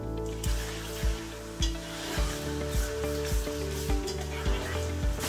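Ginger-garlic paste fries in a pan while cooking khatte aloo baingan, a steady close sizzle punctuated by regular stirring knocks about twice a second, with no talking.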